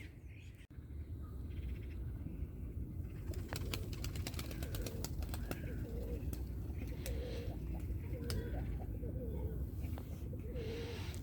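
Pigeons at the Edirnekapı pigeon market in Istanbul coo in repeated soft, low calls against a busy outdoor background, with occasional chirps and wing sounds and someone speaking nearby.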